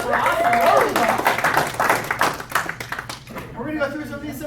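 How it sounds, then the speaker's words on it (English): An audience at a live gathering claps in a brisk burst of applause over a speaking voice, fading out partway as talk takes over near the end. "Round of applause for Austin."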